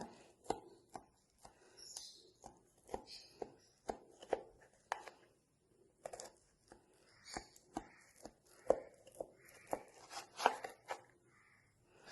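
Healthy nut bites are cut into pieces with a knife, producing a series of sharp, close chopping taps on a board at an irregular rhythm, fairly quiet, with no talking.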